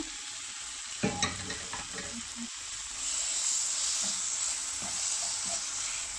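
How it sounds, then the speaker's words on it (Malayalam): Squid being stirred and fried in a pan with spices: scraping spoon strokes at first, then a steady close sizzle and hiss. "കൂന്തളവിച്ച് വെച്ചിരിക്കുന്ന ഇത് അതിലേക്ക് തട്ടിക്കൊടുക്കുകയാണ്"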